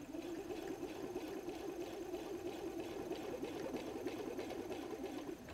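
A sewing machine stitching around a messenger bag seam hums in a steady, fast mechanical whir with rapid needle ticks, moderately near and continuous, with no voices.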